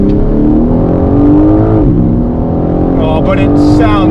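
A G82 BMW M4 Competition xDrive accelerates hard on a track, its engine note climbing in loud, rising pitch before a gear change and rising again, with a driver talking over it close to the microphone.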